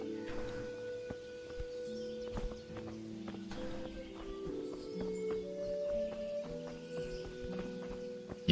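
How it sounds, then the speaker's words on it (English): Horse hooves clip-clopping in the medieval video game Kingdom Come Deliverance, a steady walking rhythm of hoof strikes mixed with sustained game music tones and faint birdsong, no talking over it. "Can I get on my horse?"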